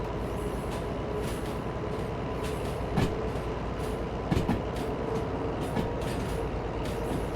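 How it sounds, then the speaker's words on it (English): A train rumbles steadily in a train simulator game, with a continuous low roar of wheels and engine and a few scattered clanks and rail knocks, no talk. "Listen to those train noises."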